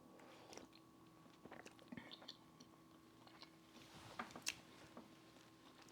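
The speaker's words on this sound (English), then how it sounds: "It doesn't sound good on my mic when I chew" Bread being chewed right against the microphone, faint wet mouth clicks and squishy bites scattered irregularly over several seconds, quiet and close with no talking.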